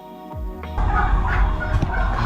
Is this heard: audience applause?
no